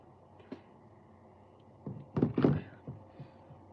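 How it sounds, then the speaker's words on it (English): Dull thuds from striking a caught fish behind the eyes to kill it off to the side. Two or three low, muffled knocks follow an earlier faint tap, fairly close against a quiet background. "you guys are going to hear a little thud here in a second."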